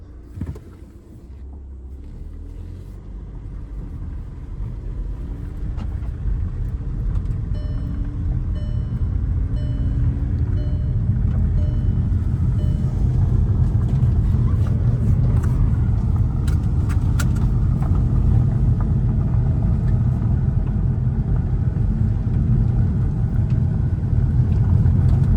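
Low diesel rumble inside a 2014 VW Passat TDI with a failing oil cooler as the engine revs climb while driving, a steady building drone with faint cabin rattles and jingles.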